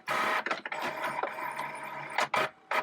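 A desk printer running close by, a loud mechanical whir with ratcheting, clicking feed sounds and several abrupt bursts as the paper advances.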